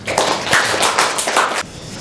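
A small audience welcomes a lecturer with applause: a handful of distinct, fairly loud claps in a quick, uneven rhythm over about a second and a half, then stopping abruptly.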